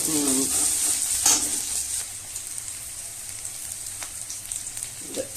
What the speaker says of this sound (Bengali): এটা কতক্ষণ ধরে ভাজতে হয়? যতক্ষণ পেঁয়াজটা লাল হচ্ছে, তাই তো?